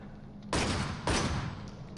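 Automated gun turrets firing in Resident Evil 7's Not a Hero mode: two loud, sustained bursts of rapid gunfire about half a second apart, each rattling on close and harsh with a brief gap between them.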